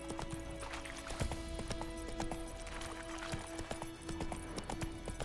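The horse Roach gallops in The Witcher 3, its hooves clopping in a quick, irregular rhythm at a moderate, fairly quiet level, with a faint steady tone underneath.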